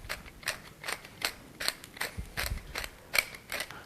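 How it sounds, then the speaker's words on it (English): A pepper mill grinding peppercorns over a flank steak in a sheet pan, steady crunchy rasping twists in an even rhythm, close and fairly quiet, no voices. "I'll liberally salt it and then grind peppercorns and rub it into the meat"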